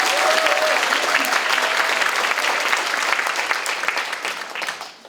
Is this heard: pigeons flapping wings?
no